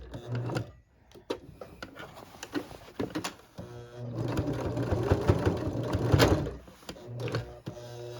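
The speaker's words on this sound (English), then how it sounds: "And then I'm going to finish sewing it." A sewing machine stitches the lapel of a Tang Soo Do martial arts uniform, running in short whirring bursts between pauses and fabric handling clicks, then a longer steady run, close up.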